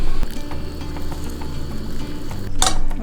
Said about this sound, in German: Und das Wasser kocht schon hier.